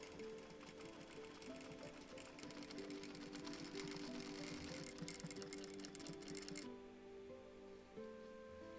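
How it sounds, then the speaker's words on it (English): A sewing machine stitching small green fleece puppet hands runs in a steady, fast, continuous whir with busy mechanical chatter for most of the clip, then stops near the end, leaving a quieter sustained hum. "we're going to sew up on the sewing machine"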